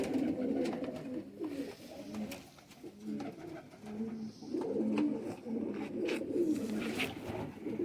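Shekhon wale cross pigeons, crossed with Faqeer Gull, coo repeatedly in low, rolling phrases close at hand, rising and falling over several seconds with brief lulls between calls.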